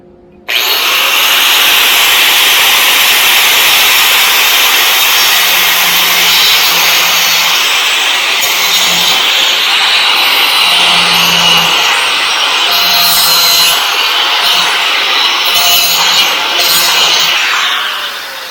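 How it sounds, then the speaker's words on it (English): An angle grinder cuts into wood during a makeshift repair, a loud continuous abrasive whine lasting throughout with slight shifts in pitch as the disc bites, no talking. "Okay, so I just have my grinder. Not the ideal tool for this,"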